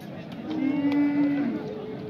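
Deep, drawn-out moo from a large bull at a busy livestock bazaar in Nookat, a single sustained call lasting about a second over steady crowd noise.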